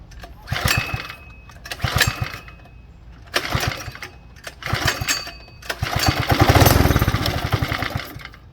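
A Coleman 3hp go-kart engine being pull-started, with several short sputtering bursts separated by pauses, then a longer loud run of rapid firing that dies away; close and alone.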